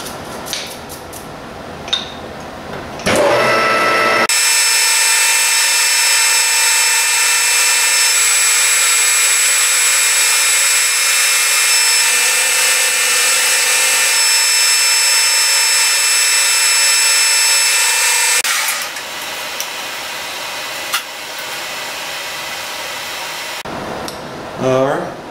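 A metal lathe boring the inside of a tube on a finishing pass, a loud steady whine with a high cutting hiss running alone for about fifteen seconds, framed by quieter shop noise at the start and end.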